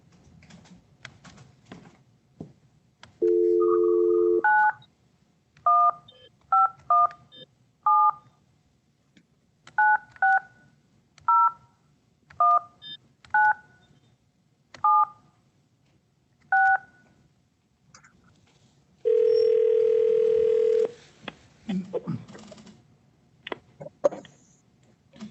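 A phone dialing sequence: a long tone, then a steady series of short, evenly spaced touch-tone beeps, ending with another sustained tone, clear and close.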